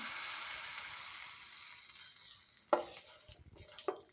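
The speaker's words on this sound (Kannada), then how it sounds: "ಒಗ್ಗರಣೆಯನ್ನು ಗೊಜ್ಜಿಗೆ ಹಾಕ್ಕೊಳ್ತೀನಿ" A steady sizzling hiss of hot tempering poured into banana-stem gojju gravy fades gradually, followed by a couple of sharp clinks and stirring knocks.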